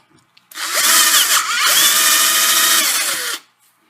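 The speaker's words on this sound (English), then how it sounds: "Drill bit's grabbing." A power drill on a mill whines steadily for about three seconds at close range, loud and continuous, its pitch wavering slightly as the bit grabs and bites into metal.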